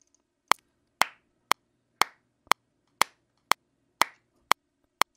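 Evenly spaced sharp hand claps, nine crisp hits about half a second apart, tightly quantized to a steady beat in an edited clap track inside Studio One, each with a short decay and nothing between.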